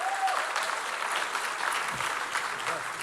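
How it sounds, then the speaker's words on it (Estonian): An audience at a church summer camp morning service applauds, a dense, steady round of clapping that stays loud and even for about three seconds. "Nii et teeme Herbertile suure aplausi."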